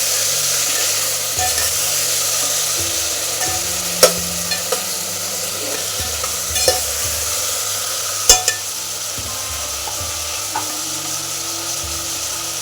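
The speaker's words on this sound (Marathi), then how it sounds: "तेलात वेळ वांगी परतून घ्यायची" Eggplant pieces frying in hot oil in a home kitchen, a steady loud sizzle that holds throughout, with a few brief clinks of utensil stirring and no talking.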